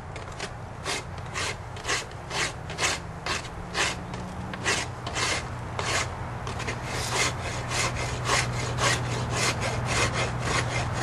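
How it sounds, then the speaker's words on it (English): A wood rasp files an Osage orange bow limb up close, with rapid rough scraping strokes repeated in a steady, even rhythm throughout. "get a good bite with this rasp"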